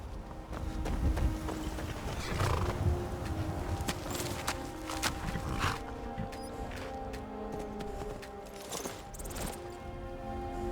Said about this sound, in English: I take care of the horses, and the goats, and the chicken.